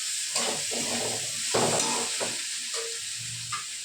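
Ginger paste sizzles in a hot pan while being stirred for a Bengali pumpkin and potato chhokka, a steady close hiss broken by repeated scraping strokes of the spoon.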